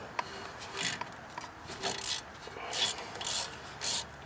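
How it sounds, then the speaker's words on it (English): A wrench loosens 10mm bolts on the rear brake of a Nissan Titan pickup, making faint, repeated raspy clicking and scraping strokes that come in short bursts. "So you got two 10mm bolts. Loosen one and then loosen the other."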